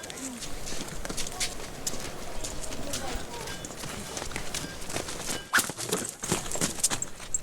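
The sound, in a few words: Bedouin children's donkeys walking, hooves clopping at Petra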